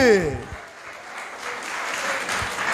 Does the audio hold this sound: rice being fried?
no